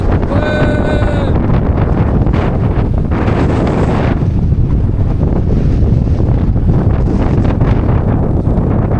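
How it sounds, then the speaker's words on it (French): Strong storm wind buffets the microphone on the Brittany coast, a loud, continuous roar with gusty surges throughout; a brief high whistling tone rises near the start. "C'est la tempête!"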